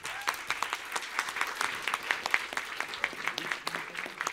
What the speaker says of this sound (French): Bravo à lui et applaudissements.